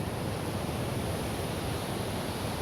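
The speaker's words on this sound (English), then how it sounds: "Ocean." Broadband ocean surf washing onto a beach at a campsite, a steady, close, loud roar with no distinct breaks, heard alone without voices.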